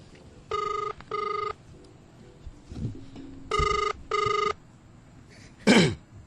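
Telephone ringing on a prank call, two pairs of electronic double rings with a pause between, a cough and small handling noises in between, and a brief louder rustle near the end.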